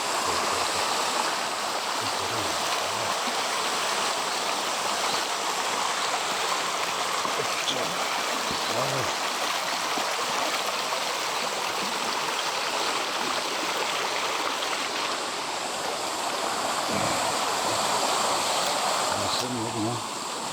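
A mountain valley stream in October rushes continuously over rocks, a dense, steady watery hiss close to the microphone with a few low knocks and faint murmurs under it.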